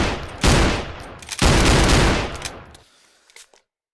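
A shotgun-style machine gun firing in a video game, two loud sustained bursts of rapid fire, the second longer, trailing off into quiet with a few faint clicks at the end.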